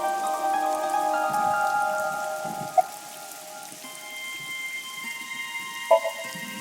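Steady rain falls throughout a scene in the video game AI: The Somnium Files, a soft continuous patter under game music, with a couple of brief clicks and no talk.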